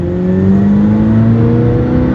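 A 2019 McLaren 720S Performance with an FI exhaust revs loud and close, a sustained engine drone with rising harmonic tones as the revs climb, heard alone without talk.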